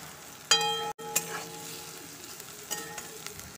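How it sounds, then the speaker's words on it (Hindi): Chopped onions and green chilies frying in a pan, a steady close sizzle with a few clinks and scrapes of a utensil against the pan. "प्याज को फ्राई कर लेंगे।"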